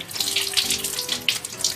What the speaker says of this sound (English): Wet your hands with water.